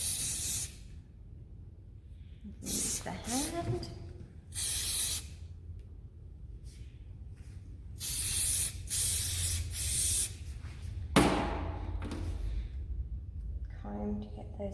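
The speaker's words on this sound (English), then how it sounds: "now we spray again" Several bursts of hairspray hiss in short spurts, close by, sprayed onto hair for a ballet bun, with brief pauses between them and a voice speaking once over the spraying.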